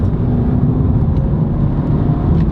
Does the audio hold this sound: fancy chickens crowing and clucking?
no